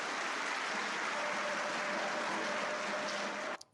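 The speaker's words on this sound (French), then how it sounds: "applaudissements nourris pour cette déclaration de Félix Tshisekedi" Dense, sustained applause from a large audience greets a statement by Félix Tshisekedi during a public address with Emmanuel Macron in Central Africa, staying loud and steady before cutting off abruptly.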